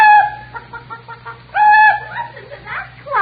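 A person imitates a chicken clucking in an old radio comedy, with two loud bursts of squawking, harmonic clucks and a rougher cackling tail, delivered alone without any other speech.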